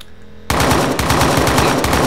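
Rapid automatic gunfire erupts loudly after a brief quiet moment in the military shooter ArmA 3, a fast, steady burst of closely spaced shots that continues to the end.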